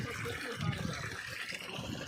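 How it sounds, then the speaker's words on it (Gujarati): Irrigation water pushed by a motor pump pours from a pipe at a farm field to water trees, a steady broadband rush of flowing water that runs the whole time. "અહીંયા મોટર ચાલુ કરી દીધી આપણે એટલે પાણી અહીંથી જાય છે."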